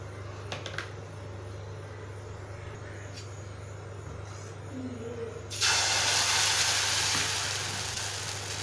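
Herb dosa batter made with mudakathan keerai hits an oiled hot griddle halfway through, bursting into a loud steady sizzle after a quiet stretch of low kitchen hum.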